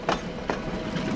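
A train rolls past in the Transport Fever 2 railway game, a steady rumbling run with two sharp rhythmic clacks near the start, moderately loud and alone.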